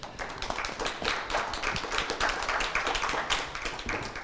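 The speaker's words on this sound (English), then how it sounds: "Please, a round of applause." Audience applause at a conference panel on democracy and digital transformation in wartime, a steady dense patter of many hands clapping throughout, moderately loud and sustained.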